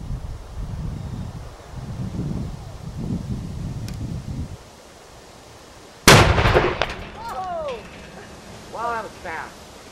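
A 4.9-inch Civil War cannon on a new steel carriage fires live, one sudden, very loud boom after a stretch of wind and rustling, then a fading rumbling tail with a few high whistling calls.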